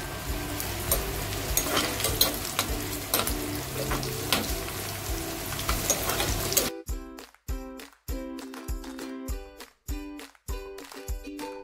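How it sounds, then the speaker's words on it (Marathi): Crushed garlic hits hot oil in a pan for a Marathi bhadang snack, a dense continuous sizzle that then breaks into sharp intermittent bursts and clatters as it is stirred, with no voices. "त्याच तेलात आता आपल्याला लसूण टाकायचं आहे"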